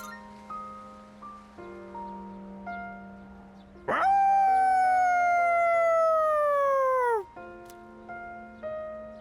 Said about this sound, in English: Koromaru's howl resounds throughout the quiet shrine.